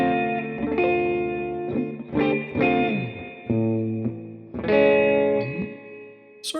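Electric guitar with a dirty, distorted, reverb-heavy tone plays loud chords in a slow, halting pattern, each strum ringing out and decaying before the next.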